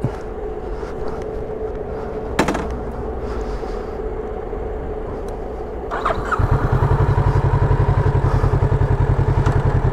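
Kawasaki Z650 RS motorcycle engine cranks and fires up after a quiet stretch with a clunk, then settles into a steady, loud, close rhythmic thrum as the bike pulls away.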